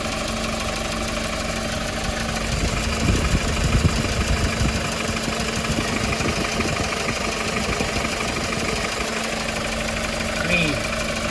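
Diesel engine of a 2019 Hyundai Porter 2 refrigerated truck with a new engine block and injectors, idling steadily with a low continuous rumble and faint knock, a voice speaking over it.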